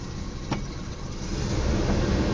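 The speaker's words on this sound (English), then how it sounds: "car starts up great" A 1977 Oldsmobile Cutlass Supreme with a small V6 idles just after starting, a steady, moderately loud low rumble with a brief click early on.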